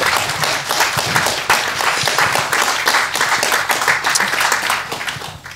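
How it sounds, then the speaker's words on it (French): An audience at a round table conference on image and GFX applauds the panelists, giving a loud, continuous wash of many hands clapping from start to finish. "j'aimerais bien qu'on les applaudisse pour ces discussions hyper intéressantes."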